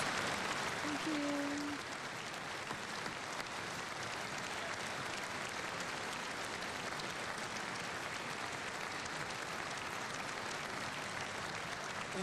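Audience applause at a university talk, a broad, even hiss of many people clapping heard from a distance and fairly faint, continuing for over ten seconds with a brief tone near the start.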